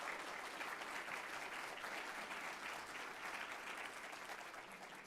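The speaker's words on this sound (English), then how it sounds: "let's welcome the speakers and give them a round of applause" A conference audience applauds to welcome the speakers of a legal panel: dense, even clapping from many hands that holds steady for several seconds and then begins to ease off slightly.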